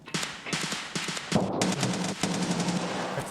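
SVD rifle fire in the Escape from Tarkov video game: a rapid string of loud, sharp shots, then heavier booming reports with a lingering tail, close and alone without talk.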